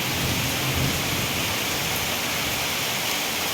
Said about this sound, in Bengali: বাইরে কি পরিমাণ বৃষ্টি হচ্ছে তোমাদের একবার দেখাচ্ছি